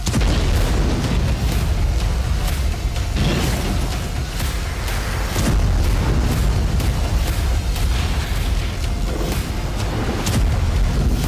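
A nuclear test explosion roars massively and continuously, deep rumbling staying loud and dense throughout, a sustained boom with no voices.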